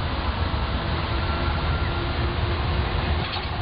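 A tram rolls along a street in Budapest, giving a steady, loud rumble of wheels on rails with a broad, even roar that holds for the whole stretch and has no voices over it.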